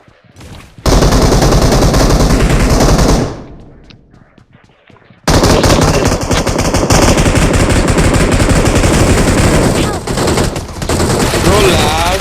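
Loud automatic gunfire from the mobile battle royale game Battlegrounds Mobile India crackles in dense, rapid bursts, pauses briefly for a quieter stretch, then resumes in sustained volleys, with a player's voice heard intermittently.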